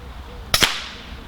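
A single air rifle shot fired at a squirrel outdoors during pest control, heard as a sharp close crack with a quick second impact snap right after, then a quiet background.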